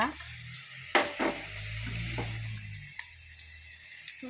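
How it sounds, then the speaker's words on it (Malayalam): Onion and green chili sautéing in a pan, a quiet sizzle with scattered stirring clicks and a low hum. "ഉള്ളി പച്ചമുളക് കൂടെ വഴറ്റിയെടുക്കുക"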